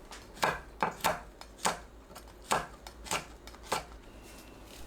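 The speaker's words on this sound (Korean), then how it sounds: "청양고추, 홍고추를 어슷 썰어줍니다." A knife cuts Korean green and red chili peppers diagonally on a cutting board, about ten crisp, evenly spaced chops heard close up with no talking.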